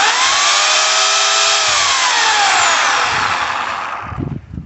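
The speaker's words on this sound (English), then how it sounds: "You get your chainsaw, you plug it in, and you do this." An electric corded chainsaw runs at full speed close up, a loud, steady high-pitched motor whine that slowly drops in pitch before winding down near the end.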